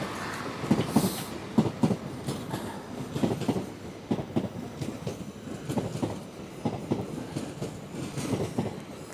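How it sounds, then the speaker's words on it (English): An LNER Azuma passenger train, class 801 bound for King's Cross, runs through Doncaster station with a steady rumble and repeated rhythmic clicks of wheels over rail joints, fairly close and continuous, with no talk. "I've got an Azuma to King's Cross, see if we can get a wave."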